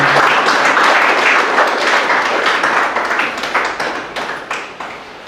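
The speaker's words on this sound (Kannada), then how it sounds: "ಚಪ್ಪಾಳೆ." An audience applauds loudly at a Deepawali event; the dense clapping holds steady at first, then thins out and fades.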